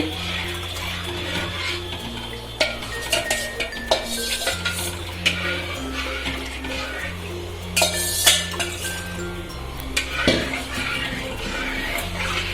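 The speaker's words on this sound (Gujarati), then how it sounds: "આ લિક્વિડ છે એ ધીમે ધીમે કોર્નફ્લોર વાળું ને તરબૂચ વાળું નાખી દઈશું અને ચલાવતા જવાનું છે" Watermelon and cornflour liquid stirred into boiling sugar water for Karachi halwa, with a utensil clinking and scraping against the pot in repeated bursts, close and moderately loud, over a low steady background hum.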